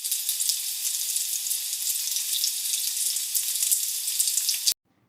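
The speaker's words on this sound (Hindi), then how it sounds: "अब इसमें डाल देंगे और गोल्डन ब्राउन कलर आने तक इसे फ्राई कर लेंगे" Chopped garlic fries in hot oil for a lentil dal, giving a steady close crackling sizzle with no pauses that cuts off sharply near the end, with no one speaking.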